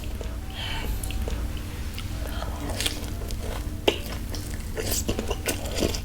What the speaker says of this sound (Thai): ลองกินอันนี้เป็นปลานะครับผม ใส่รสฮันนี่โคชูจังเข้าไปครับ